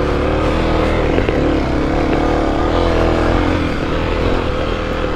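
Dirt bike engine held at full throttle on a rocky enduro trail, rear wheel hung up on a rock, giving a loud, steady, chugging drone that stays close and continuous with no talk.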